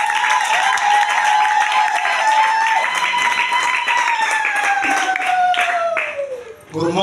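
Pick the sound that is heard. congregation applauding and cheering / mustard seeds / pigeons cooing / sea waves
congregation applauding and cheering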